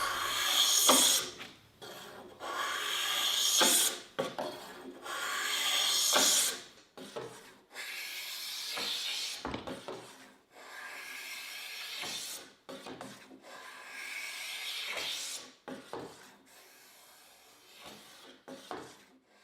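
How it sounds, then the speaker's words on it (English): A Migaki Gamma draw knife scrapes the outer skin off a length of bamboo by hand, giving repeated rasping strokes at a steady rhythm, close and clear with short pauses between passes. "now I'm going to remove the outside surface. I'm using this tool, Migaki Gamma. which is similar to a draw knife"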